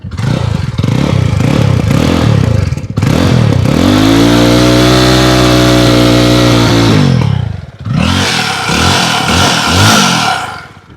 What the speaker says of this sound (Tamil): கிளச்சை பிடிச்சி தான் இது வண்டி ஸ்டார்ட் பண்ணணும்